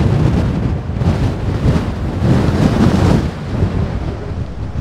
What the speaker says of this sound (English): it's super windy, yeah?